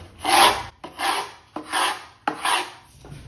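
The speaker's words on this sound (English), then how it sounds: "I'm going to strip the paint off for this one just with a paint scraper" A paint scraper strips old paint off a wooden board in four long, rasping strokes with short pauses between them, loud and close, with no talking.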